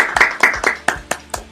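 A church congregation claps in praise of the Lord, a few loud, sharp rhythmic claps spaced about a quarter second apart, close and clear with no voices over them.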